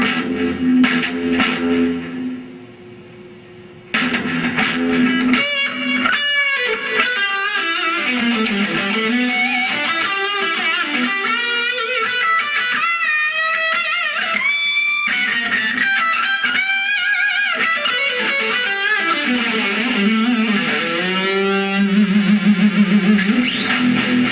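An overdriven electric guitar through a Fender Vibro Champ XD tube amp plays expressive lead lines with bends, thick with echoing delay repeats that trail behind each phrase; no talking.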